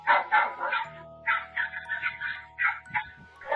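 Several dogs bark in repeated bursts with some yips, fairly close and loud over a faint steady hum.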